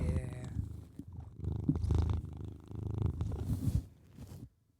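A male pet cat purrs right against a microphone, a steady close rumble broken by muffled brushing thumps as he rubs his head on it, fading to silence at the very end.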